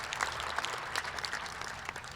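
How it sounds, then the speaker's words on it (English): Crowd applause for a university volleyball team at an outdoor sports complex groundbreaking ceremony, a fairly faint, distant-sounding wash of many hands clapping that continues steadily and without talk. "Big round of applause for our volleyball team"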